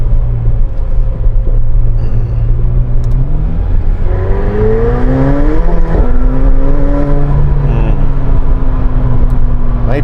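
McLaren 720S supercar engine accelerating hard, a loud continuous roar with rising and falling pitch sweeps as it revs through gears, close and sustained throughout.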